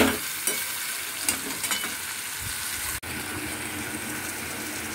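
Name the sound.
stirring coconut into frying potato, pointed gourd and ridge gourd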